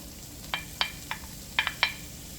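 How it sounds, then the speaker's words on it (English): Garlic and onion sauté in melted butter and oil in a pan, a soft steady sizzle running beneath a handful of sharp utensil clinks and scrapes spaced irregularly, close by with no talking. "Add our garlic and onion and allow that to saute for a little while"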